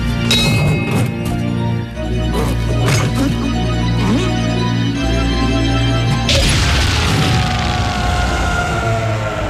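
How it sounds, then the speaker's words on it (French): A cartoon explosion: a loud, busy burst of crashing and booming impacts, with a sharp bright blast near the end that trails off into rumbling debris. "Ça doit être la traditionnelle explosion de bienvenue."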